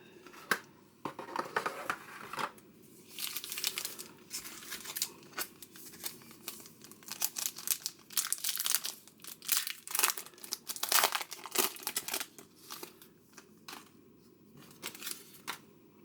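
Foil packets of Topps Merlin Heritage 98 trading cards are torn open and handled close up, with irregular bursts of crinkling, tearing and card-shuffling rustle between quiet pauses.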